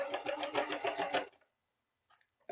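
A sewing machine stitching pockets shut through stiff interfaced fabric, a fast close mechanical whirring run that stops abruptly, followed by a few faint clicks and a brief restart.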